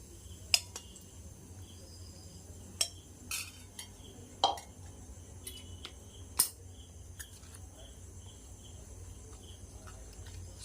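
A spoon mixing heated oil and cumin into a mango pickle, a handful of sharp clinks and scrapes spread apart over a quiet background with faint insect chirping.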